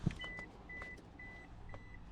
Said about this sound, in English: So this beep is gonna drive me crazy